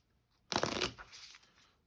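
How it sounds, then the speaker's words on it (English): A deck of cards for the Shifting Stones card game is shuffled once in a quick, close riffle lasting under a second, followed by faint rustling. "Get one more shuffle here."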